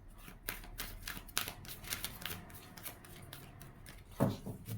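A deck of cards is shuffled close up in quick riffling bursts, a sharp flurry of clicks and a final heavy snap near the end, fairly quiet overall with no speech.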